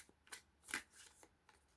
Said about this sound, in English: they don't free fall, they shuffle in clumps